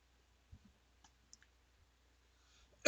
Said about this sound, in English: click the politics button in the top bar